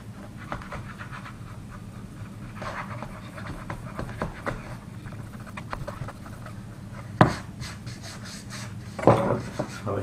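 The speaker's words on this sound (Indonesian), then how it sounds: "Untuk meratakannya kita menggunakan pahat." A chisel flattens old Dutch teak pallet wood with quiet, steady scraping and rasping, broken by a couple of sharp knocks near the end.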